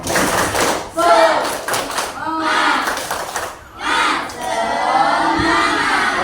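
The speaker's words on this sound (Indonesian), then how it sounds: "Tepuk semangat." A group chants together in loud rhythmic bursts with clapping and shouting, three energetic rounds separated by brief pauses.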